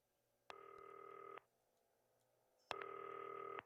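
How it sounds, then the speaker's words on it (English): A telephone rings in the video game Not For Broadcast, giving two clear, loud electronic rings separated by a short pause, with no talking over them. "We gotta answer the phone."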